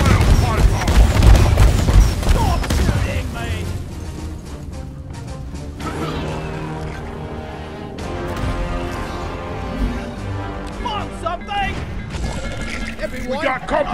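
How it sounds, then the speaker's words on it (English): Gunfire in a mining survival video game, with booms and rapid crackling shots in the first seconds that then thin into scattered hits. Voices talk over the shooting throughout. "stop shooting me!"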